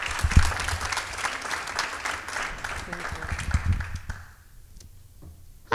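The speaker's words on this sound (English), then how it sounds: "A round of applause for Laurel" Crowd at a nonprofit awards event applauding, a full round of clapping for about four seconds that stops abruptly, leaving a quiet room.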